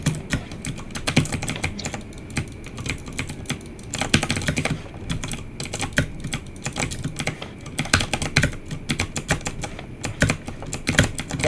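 Fast, continuous clicking from a mechanical keyboard with blue switches fills the stretch, loud and close, with dense bursts of keystrokes and brief pauses between runs.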